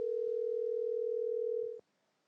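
An outgoing phone call on a TV singing show stage goes unanswered. A single steady electronic tone holds for nearly two seconds, then cuts off abruptly into near silence.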